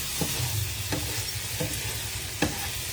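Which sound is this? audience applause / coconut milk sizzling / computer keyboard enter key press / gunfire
coconut milk sizzling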